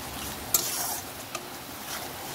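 Masala and chicken being stirred and fried in a pan for Bengali chicken kosha, a steady soft sizzle under a couple of brief spatula clinks against the metal, close and fairly quiet.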